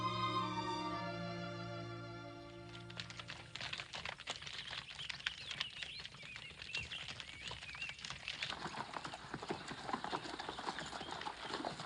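Horses' hooves clip-clop steadily on the ground in a Western film scene, a rhythmic patter of several animals at a walk after a sustained musical passage fades out.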